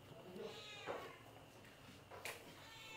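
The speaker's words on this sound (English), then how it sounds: "It's a cat." A cat meows a couple of times indoors in a Philippine home, short faint cries over a steady background hum with people talking nearby.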